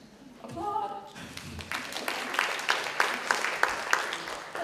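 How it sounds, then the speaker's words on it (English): Audience applause at a school orientation event, a crowd clapping steadily from about one second in with some sharper claps standing out, following a brief voice at the start. "Applaud."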